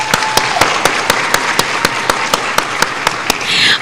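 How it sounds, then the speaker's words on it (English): Pageant audience applause rises as a contestant is welcomed back, with sharp, evenly spaced claps standing out over a steady wash of clapping that swells at the end. "Please welcome again Misty with a round of applause"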